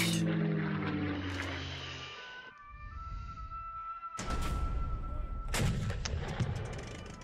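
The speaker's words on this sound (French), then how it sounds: "Et on pose un premier bombardier" A bomber card attack in the KARDS World War II card game plays as heavy artillery-like blasts and rumbling explosions, with a loud burst at the start, a brief quieter gap, then another sustained barrage.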